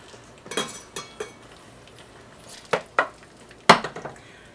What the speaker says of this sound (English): I'll just plate it up and then I'll be right back.